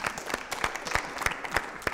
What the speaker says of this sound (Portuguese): Agora, palmas para ele.